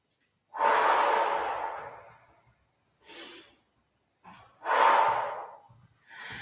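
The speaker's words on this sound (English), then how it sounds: "close your eyes and take 5 deep breaths" Deep breathing during an aerial yoga session: two long, loud breathy exhales followed by shorter inhales, close and alone in a quiet room with no talking.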